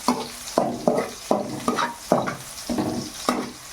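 Green chilies frying in a pan while cooking egg keema, with rhythmic stirring scrapes and clinks about every half second over a soft sizzle, close and with no talk.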